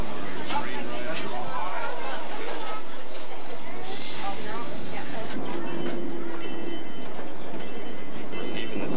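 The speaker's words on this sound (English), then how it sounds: "Okay, here we go on the train ride." A train departing a station in Arizona, rumbling and clattering along in a steady broadband roar, with faint voices mixed in and a brief higher-pitched squeal partway through.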